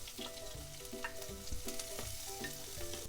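Loud, continuous sizzling of chopped garlic, ginger and chilli frying in a hot pan, with occasional stirring scrapes and clinks, close up and without voices.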